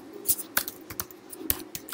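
Someone types text into a file on a computer keyboard, producing a quick, irregular run of crisp key clicks, close and fairly quiet, with no talking.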